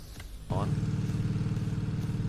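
A V8 engine in a video game, Center Station Simulator, kicks in after a brief pause with a steady, rumbling drone and keeps running at an even idle, low and close, with faint talking before it starts.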